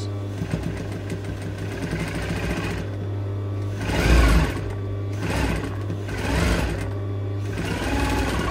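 A sewing machine stitches a baby doll dress in a continuous mechanical whir with a steady low hum, swelling louder in short bursts as the speed picks up, close by and alone without speech.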